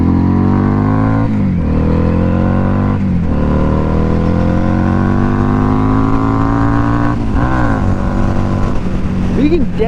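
Harley-Davidson XG750 motorcycle engine heard up close while riding, a loud continuous drone rising in pitch through the gears, with brief dips at each shift before climbing again.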